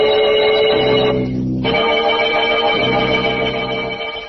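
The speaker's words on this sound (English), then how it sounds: "a man lies in a bed in a padded cell and hears the bells ringing, every hour, on the hour" Bells ring steadily as a sound effect in an old-time horror radio drama, a loud, sustained ringing tone that carries through the whole stretch with no voices over it.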